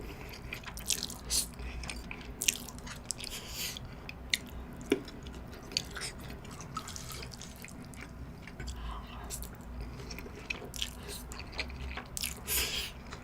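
Close, wet chewing and squishing of Shin Ramyun Toomba noodles mixed with raw green onion, with soft irregular bites and slurps running steadily throughout, near and fairly quiet.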